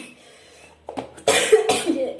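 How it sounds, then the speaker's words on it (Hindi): A woman coughs several times in quick, harsh bursts that grow louder toward the end, close to the microphone, with no talk around them. "ये खांसी ने परेशान कर रखा है।"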